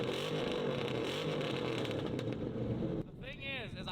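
A Dodge Hellcat built for offroad use, running with no exhaust, roars loud and steady at close range before the sound drops and shifts into a rising, wavering tone near the end.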